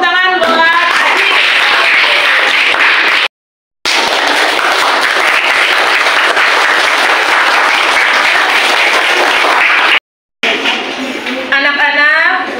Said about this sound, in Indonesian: Tepuk tangan buat Aziz.